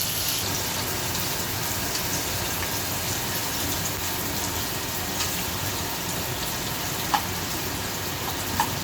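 Onions frying in a pan until light reddish, giving a dense, continuous crackling hiss like steady rain, close and fairly loud, with a couple of faint clicks near the end and no talking.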